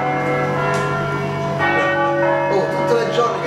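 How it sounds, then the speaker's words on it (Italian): Church bells ringing in Milan, sustained overlapping tones with new strikes adding in, a dense, resonant peal with a faint voice in the background. "a un certo punto partivano le campane"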